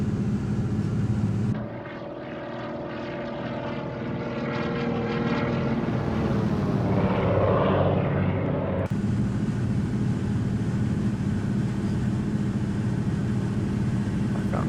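A simulated DHC-2 Beaver's radial propeller engine in X-Plane 12 drones steadily and loudly throughout, its tone shifting through the middle with no talk over it.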